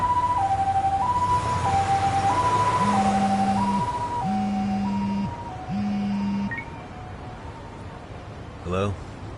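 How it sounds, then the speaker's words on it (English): An ambulance siren in the video game Lost Judgment wails in a steady two-tone hi-lo pattern, loud and close at first, then fading as a deeper horn-like tone joins midway, with background traffic noise throughout. "Can you get an ambulance over to your bar right away?"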